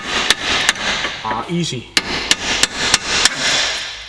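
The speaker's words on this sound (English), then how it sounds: "if I use an old extension and a big hammer" A big hammer strikes an old extension to drive out a front Subaru suspension bushing: a series of sharp metallic blows at irregular intervals, loud and close, with a brief spoken remark between strikes.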